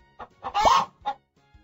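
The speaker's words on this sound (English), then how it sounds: "Chicken." Cartoonish chicken clucking from a children's animal puzzle video game: several short clucks with one longer, louder squawk in the middle, close and clear with no talking.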